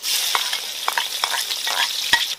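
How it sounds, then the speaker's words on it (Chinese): Scallion, ginger and garlic stir-fried in a little oil left in a wok, a steady close sizzle with bursts of spatula scrapes and stirring clatter, no voices. "锅头留上一点底油，把葱姜蒜倒进来爆香。"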